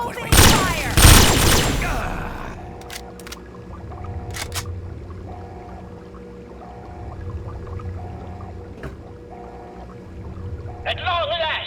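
A loud burst of rapid gunfire in Fallout 3's Point Lookout add-on, followed by scattered single shots and clicks over a low ambient hum.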